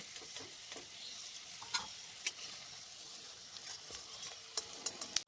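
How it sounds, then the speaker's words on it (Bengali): Stuffed kakrol (spiny gourd) fries in oil with a soft, steady sizzle, scattered tiny pops and a few light utensil ticks, quiet and close with no voices. "বাকি কাঁকরোলগুলো আমি এই তেলটার মধ্যে ভেজে নেব"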